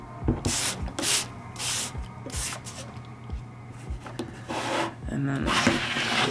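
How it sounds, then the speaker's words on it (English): Several short hissing bursts of a spray bottle misting water onto an acrylic paint palette, spaced a second or so apart, with soft rubbing and handling sounds in between. "so you just spray it, and then you put it back down"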